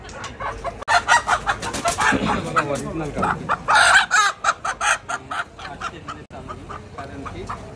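Chickens cluck and squawk loudly up close, with a rooster crowing midway through the busy barnyard clamor.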